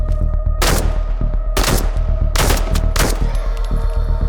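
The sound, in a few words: gunfire in a survival VR video game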